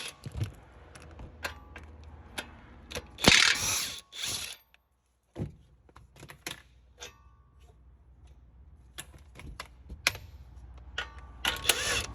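A hand ratchet with a 14 mm socket clicks in short bursts while loosening the brake caliper bolts on a 2017 Nissan Altima, with scattered metallic clatter and a pause partway through.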